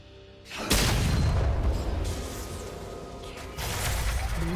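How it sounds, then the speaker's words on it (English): A turret collapsing in League of Legends: after a quiet moment, a loud booming crash bursts in and rolls into a sustained rumbling, crumbling roar, then swells again with a second surge near the end. "turret has been destroyed"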